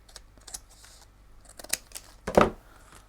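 Scissors trim through card and acetate in a few short snips, ending in a louder crisp cut with crinkling, close by and alone.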